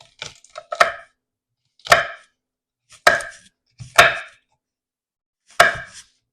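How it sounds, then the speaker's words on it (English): Knife chopping peppers on a cutting board for chili, five sharp, distinct chopping impacts spaced irregularly with brief quiet gaps between them, close and clear with no talking. "And you just do that to all your peppers."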